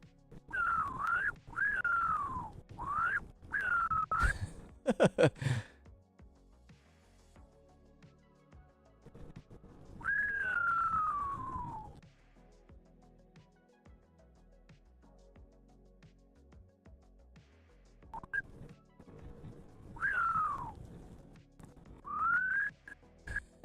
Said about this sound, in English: And then I whistle again.